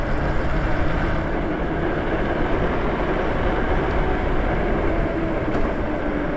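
A Lyric Graffiti electric bike accelerates at full throttle, producing a steady, dense rushing drone of motor and road noise that holds constant throughout, with no talking.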